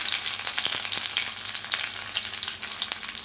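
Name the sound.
urad dal, curry leaves and cumin frying in oil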